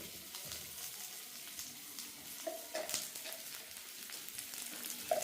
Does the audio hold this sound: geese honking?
no